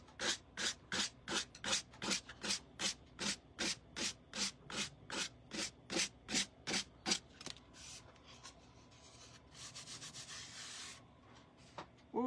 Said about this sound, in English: Just sand in a downward motion and it kind of edges that right off.